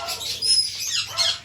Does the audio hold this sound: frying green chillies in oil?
no